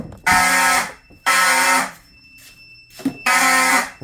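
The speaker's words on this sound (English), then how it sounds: "Those horns vibrating up here sound so funny." Mechanical fire alarm horns blare during a fire alarm system test, sounding in three loud, buzzing bursts of about a second each, separated by short gaps, close by.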